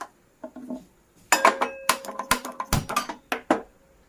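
Metal cookware clanks and clinks as a pan is picked up and handled in a home kitchen while fish curry is being made. It is a quick, uneven run of close, sharp knocks with short quiet gaps and no talk.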